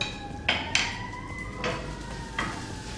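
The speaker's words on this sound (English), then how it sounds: "we can take a moment and stir our chorizo" Metal spoon scraping and clinking against a pan while stirring chorizo on the stove: four sharp, close knocks spread over a few seconds above a faint, steady background tone.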